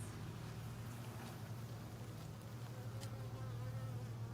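Honey bees on a beehive frame, a steady low droning buzz of many insects close by, quiet and continuous, with no talking.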